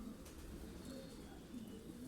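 Pigeons in a breeding loft in Karacabey, Bursa, coo softly in a low steady murmur, several birds overlapping at a distance with no voices.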